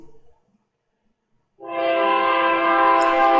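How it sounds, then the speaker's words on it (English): An approaching train sounds its horn in one loud, steady, sustained blast that cuts in abruptly after a near-silent pause and carries on to the end. "Hear that train coming?"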